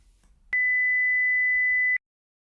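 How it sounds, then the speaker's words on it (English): A generated high-pitched sine wave beep holds one steady pure tone for about a second and a half, loud and clean, beginning and ending abruptly against silence. "Increasing the frequency will result in a high-pitched tone."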